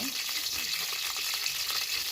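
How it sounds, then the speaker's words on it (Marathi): Cumin seeds fry in hot oil for tempering, a dense continuous sizzle with fine crackling pops, close and steady throughout. "जिरे चांगले तळले"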